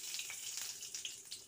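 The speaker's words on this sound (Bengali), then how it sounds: "বড়ি নিয়ে যেই তেলটা বাঁচলো মাছ ভেজে তার মধ্যে ভেজে নিচ্ছি বড়িটা" Bori lentil dumplings fry in leftover oil from frying fish, giving a soft continuous sizzle with light crackling pops, fairly quiet and close, with no talking.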